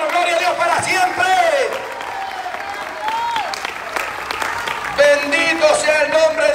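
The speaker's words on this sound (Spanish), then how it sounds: "¡Dele más palmas de alabanza al Señor, hermano!" A church congregation claps in praise, a steady wash of applause under a preacher's loud, excited voice that carries throughout.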